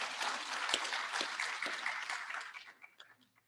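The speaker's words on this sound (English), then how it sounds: "give her a clap" Audience applause for Baroness Patricia Scotland at an International Women's Day celebration at the Kenya School of Government, faint, distant clapping that fades out toward the end.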